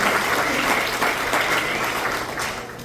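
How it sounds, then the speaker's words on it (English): Comedy club audience applauding steadily for a couple's 29-year anniversary at a late-show stand-up set, a dense, even wash of clapping throughout. "Let's give a round of applause for 29 years."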